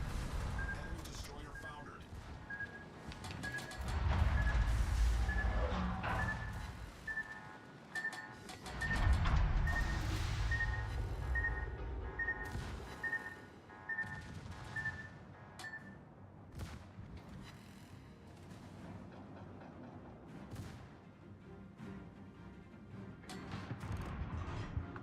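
Torpedo strike on a ship in World of Warships, with heavy booming impacts and rumbling explosions arriving in two big bursts early on, then gunfire and a repeating alarm tone, loud and close amid game noise.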